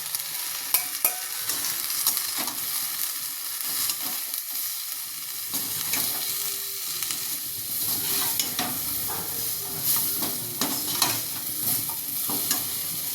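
Chili powder and spices sizzle and crackle steadily in a hot pan with cauliflower, close by, with occasional stirring scrapes and no voices.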